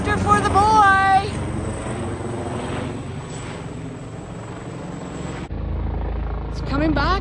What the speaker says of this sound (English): There goes the copter for the boy!